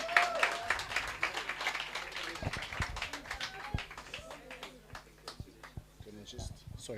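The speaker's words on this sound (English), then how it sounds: "Let's give a big round of applause." Scattered audience clapping at a sales workshop and expo in Gugulethu, fairly steady over several seconds, with voices and crowd chatter mixed in under the claps.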